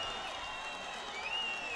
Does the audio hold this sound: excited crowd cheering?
yes